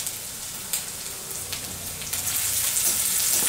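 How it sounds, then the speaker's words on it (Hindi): Garlic, ginger and green chilies hit hot oil for veg Hakka noodles, a few light clicks and pops giving way to a growing, steady sizzle that rises in loudness toward the end. "तेल गरम होने के बाद में हम लहसुन डालेंगे, अदरक डालेंगे,"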